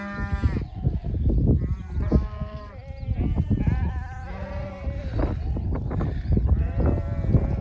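Several sheep bleat repeatedly, overlapping wavering cries from a nearby flock, some louder and close, others farther back.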